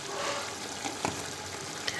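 Ground cumin and coriander being stirred into spinach and beef (palak gosht) cooking in a pot, a low steady sizzle with a few soft spoon knocks, quiet and close.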